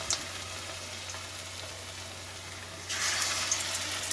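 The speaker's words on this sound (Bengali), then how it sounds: "এখন বেগুনি এই পেঁয়াজি ভাজতে এসছি" Beguni and onion pakoras fry in hot oil with a steady, broad sizzle that swells louder near the end, and no voices are present.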